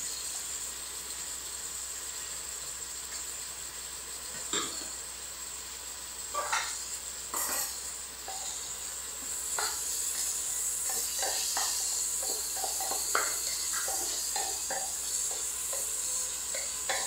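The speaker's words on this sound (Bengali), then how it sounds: "আলুটা ততক্ষণে একটু ভেজে নেওয়া যাবে" Potatoes and onion frying in a pan give a soft, continuous sizzle and hiss, broken by scattered scrapes and clinks of stirring that grow busier toward the end.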